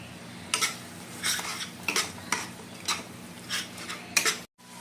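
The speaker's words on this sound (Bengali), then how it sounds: "এখন মশলাটা ভালো করে কষিয়ে নেব।" Spoon scraping and stirring Kashmiri chili, turmeric and coriander powder frying in a pan, irregular close metallic scrapes every half second or so over a faint steady sizzle.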